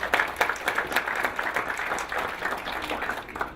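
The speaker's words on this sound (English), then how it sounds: "big round of applause to all of you for coming" An audience at a county board candidates forum claps after being thanked for coming. A moderate room of individual hand claps starts crisp and strong, then settles into a softer, steady patter that trails off.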